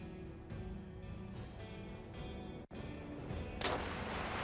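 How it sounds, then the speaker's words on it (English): A sniper shot cracks out in This War of Mine: a sharp, loud report rising above a steady ambient background, with a brief dip in sound just before it. "Watch out, the main alley is under sniper fire"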